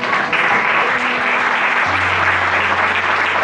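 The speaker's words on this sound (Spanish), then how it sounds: "Un fuerte aplauso al Señor." A church congregation applauds during a Sunday worship service, steady dense clapping filling the room for the whole stretch, with no voices standing out.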